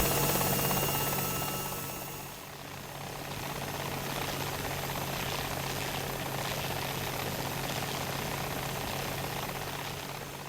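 A BO-105 helicopter in War Thunder holds a steady rotor and engine whine at moderate volume, briefly dipping then settling into a continuous broadband hum with no voices.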